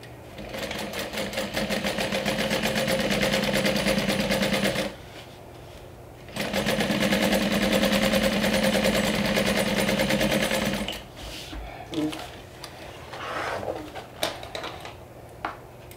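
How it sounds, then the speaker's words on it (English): A sewing machine topstitches about 1/8 inch from the edge of a bag pocket for a Wayfarer-style bag lining. It runs as two long, steady, close whirring bursts separated by a pause, followed by sparse clicks and handling noises. "we're going to top stitch about 1/8 of an inch away from the edge"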